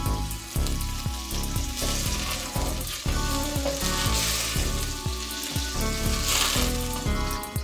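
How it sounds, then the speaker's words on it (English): Butter browns and sizzles steadily in a hot pan while a Danish beef-heart dish in cream sauce is being cooked. The crackling is close and continuous, with regular soft pops and scraping through the sizzle. "I'm gonna add the butter and let it brown."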